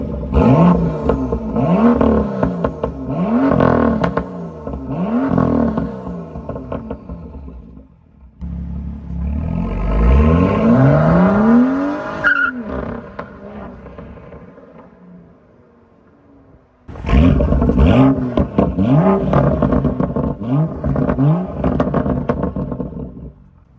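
A BMW M2 F87 with its N55 straight-six revving up and down in repeated loud bursts, rising and falling sweeps with a quieter idle stretch before a final run of sharp revs.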